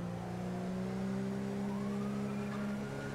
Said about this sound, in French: Là, des grosses sirènes là.